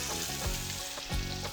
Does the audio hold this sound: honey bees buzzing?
no